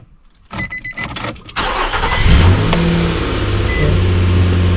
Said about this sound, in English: So I'm going to start up the engine.